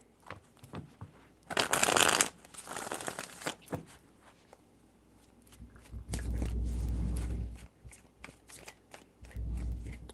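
Tarot cards are shuffled by hand in several separate bursts of crisp, riffling flutter. Each burst is close and fairly loud, with short quiet gaps between them.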